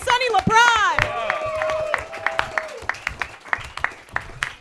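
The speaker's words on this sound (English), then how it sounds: "Keep those hands clapping for Diego Mata and Sonny LaPrade." A comedy roast audience claps for two roasters. Sharp, scattered claps come under a host's raised voice at first, then continue as thinning, irregular applause.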